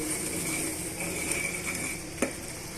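Curry masala stirred in a pan as it simmers, with a soft bubbling hiss, light scraping of a spoon and a single sharp clink of metal near the end, fairly quiet and without speech.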